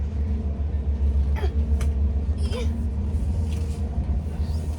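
A moving train gives a continuous deep rumble with steady rattling throughout, and faint voices are heard briefly over it.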